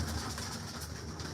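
Pigeons of the Dilawar Khan breed coo softly in a steady, low murmur close by, a continuous soft texture with no talking.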